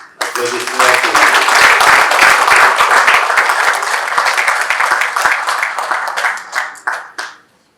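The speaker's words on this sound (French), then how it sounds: "Applaudissements, s'il vous plaît." Audience applause at a book launch: sustained, dense clapping from a crowd, close and loud for about seven seconds, with brief voices near the start before it thins out and stops.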